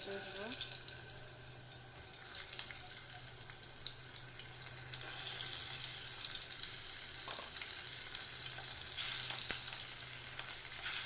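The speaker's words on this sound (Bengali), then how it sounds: "এদিকে আমার মাছটা ভাজা হয়েছে আমি হালকা ভেজে নিয়েছি ইলিশ মাছ" Hilsa fish frying in hot mustard oil gives a steady, fairly quiet sizzling hiss that continues throughout and swells slightly partway through, with faint kitchen clatter and no speech.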